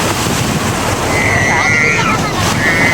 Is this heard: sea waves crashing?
yes